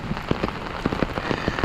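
Steady rain falls in the countryside, drumming close and dense on a surface with scattered louder drops and no voices.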